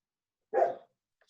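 One single dog bark, loud and close, rising out of silence and fading quickly.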